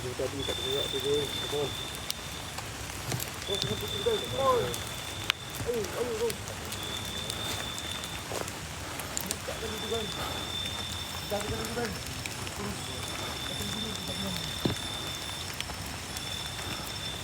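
Rain falls in a forest at Bukit Bunian, a steady, faint patter beneath people talking, with a thin insect-like whine recurring in the background.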